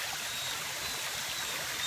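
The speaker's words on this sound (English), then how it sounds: "There's a beautiful waterfall here, and there's a beautiful river here" A river flows near a waterfall, making a steady, soft hiss of rushing water that stays even throughout, with no other sounds or voices.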